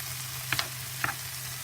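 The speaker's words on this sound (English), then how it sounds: "I do want it to coat some of this so that it can fry with a nice crisp to it" Peppers and onions fry quietly in a pan for a vegan breakfast burrito, a soft steady sizzle with two brief utensil clicks.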